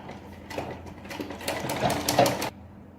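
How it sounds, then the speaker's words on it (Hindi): A sewing machine runs a seam on a kurti, a steady close whir of rapid stitching that builds over about two and a half seconds and then stops abruptly, with no talk. "इस पे 2 सिलाई लगेंगी, एक इस साइड से और एक इस साइड से"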